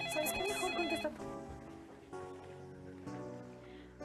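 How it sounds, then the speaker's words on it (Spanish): A telephone in a family residence rings with a repeated electronic trill, a short burst followed by quieter rings at regular intervals, faint and alone. "Contesta el teléfono."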